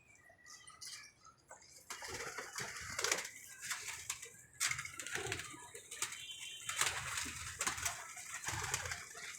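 Pigeons kept by a hobbyist coo nearby in repeated soft, throaty phrases, with rustling and shuffling sounds in between and no speech.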